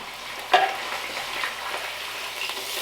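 A pot roast sears in a hot pan for a Guinness pot roast, a steady close sizzle with one sharp clatter as the meat is turned, then continuous frying hiss.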